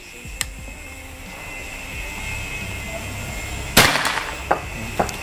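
An Escobar PCP air rifle fires one sharp, loud crack during an outdoor accuracy duel, followed by a few fainter impact clicks, over a quiet background with a steady faint hum.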